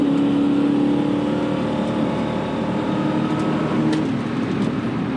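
An Infiniti Q45 sedan accelerates hard, its engine roaring loudly and steadily through the gears, with a brief change in pitch partway through as it shifts. The sound is close and continuous, with no voices.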